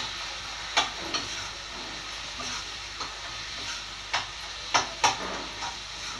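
Chili and tomato masala stirred in a pan, with a low sizzling hiss throughout and a few sharp spoon scrapes and clinks at irregular intervals, close up and alone.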